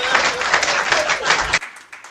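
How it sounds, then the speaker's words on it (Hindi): An audience at a Hindi comedy poetry gathering (hasya kavi sammelan) breaks into dense, loud applause for about a second and a half before it cuts off. "देखो, आपने ताली बजा दी, अच्छी बात है"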